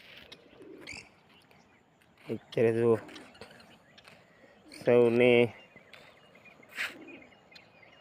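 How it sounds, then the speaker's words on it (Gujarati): Pigeons coo in two short bursts between quieter moments on a village morning beside a large pond, with a few chirps and someone speaking briefly nearby. "આ કબૂતરો કબૂતરોનું ઘૂઘું ઘૂ નીકળ્યા"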